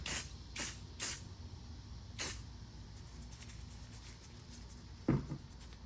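Several short hissing bursts from a spray paint can, applied to camouflage gear, spaced irregularly, then a brief rattle near the end, all close and fairly quiet.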